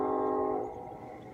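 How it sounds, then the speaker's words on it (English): A train horn blares steadily and fairly loudly in the distance in Colorado, a sustained chord that eases off as the train rolls on beneath it. "Thank you to the train who is interrupting this video."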